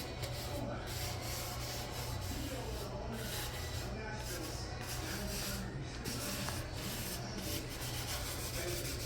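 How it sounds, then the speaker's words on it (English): Steady rubbing as a coating is worked into the crevices of a cast iron skillet under restoration, a continuous close scrubbing texture that persists throughout without pause. "Rub it into that, any crevice, crack, anything."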